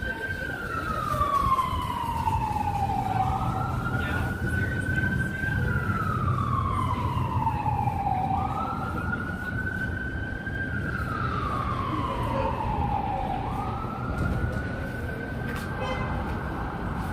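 A fire truck siren wails on a busy New York street at night, sweeping slowly up and down in long repeated cycles over constant traffic rumble, sounding moderately close and continuous throughout.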